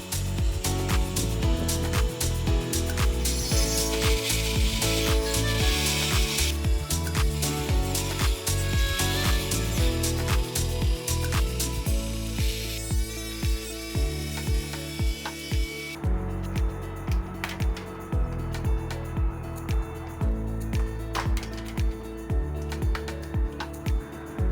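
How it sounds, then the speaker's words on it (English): A Dremel fitted with a saw attachment cuts down the sides of a plastic trellis during a balcony makeover, giving a loud, steady buzzing whine that runs almost nonstop for about sixteen seconds before its tone shifts and slowly fades. "I'm gonna use my Dremel saw attachment here to cut down the sides and get it to the proper shape"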